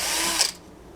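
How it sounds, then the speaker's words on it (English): A power drill whirs briefly as it bores out a rivet hole in a medieval gauntlet, a short high grinding burst that cuts off after half a second and leaves near silence. "I'll drill it out a little bit better."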